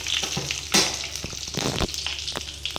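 Panch phoron whole spices with bay leaves sizzle in hot oil for a khichuri tempering, a steady close crackle broken by a few sharper spits and stirring scrapes, with no voices.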